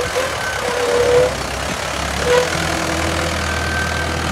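A Mahindra 575 tractor engine idles with a steady, low, rumbling drone that swells slightly twice, with no voices over it.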